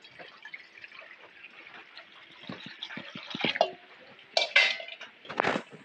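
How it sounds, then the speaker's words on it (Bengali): Water is poured into a wok on a lit stove, heard as faint trickling and dripping with a few louder splashy bursts and light pan clatter near the end. "এবার কড়াইয়ের মধ্যে একটু জল দিয়ে দেবো।"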